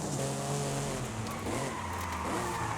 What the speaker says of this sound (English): The S2000 drifting in front of the other player